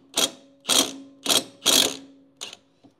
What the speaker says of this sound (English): I'm gonna take an impact here and get these bolts off.